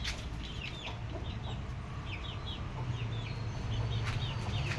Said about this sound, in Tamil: குஞ்சு கத்துது, குஞ்சை காணோம்.